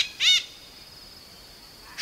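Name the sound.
call of a red-breasted bird (lalbukti) in forest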